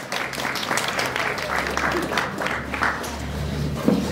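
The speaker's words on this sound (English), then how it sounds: "Give them a round of applause." Audience applause for guests at a youth church gathering, a steady round of clapping with crowd murmur and a low hum underneath, fairly even throughout.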